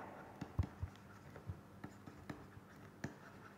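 Writing on a lecture board during a tutorial gives a string of faint, irregular taps and short strokes, spaced about half a second apart, in a quiet room with no talking.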